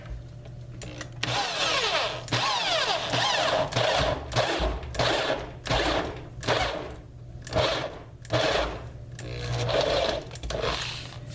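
A drill boring a half-inch hole in the side of a box mod enclosure for a dual-18650 vape, heard as a loud, close motor whine in repeated bursts with short pauses between passes.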